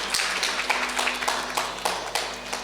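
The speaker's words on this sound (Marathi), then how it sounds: "त्याबद्दल सुद्धा जोरदार टाळ्या होऊ दे" A concert audience at a Dasnavami festival classical singing program claps together, a continuous crowd of hand claps with some sharper individual claps standing out and a faint low tone underneath.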